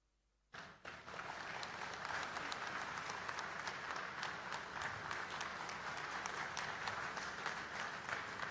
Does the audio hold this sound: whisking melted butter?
no